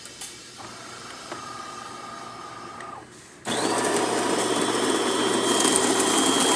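A DeLonghi espresso machine brews a shot in a machine that won't build pressure, a faint steady hum joined by a thin whine before a louder pump drone kicks in and keeps running.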